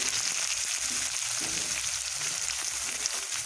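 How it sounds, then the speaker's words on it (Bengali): Steady crackling sizzle of potatoes, pumpkin and eggplant frying in hot oil with panch phoron, green chili and grated ginger, close and continuous, with no voices. "এবার দিয়ে আমি একটু ভালো ভাজা ভাজা করবো দেখুন ভাজা ভাজা হয়ে যাচ্ছে"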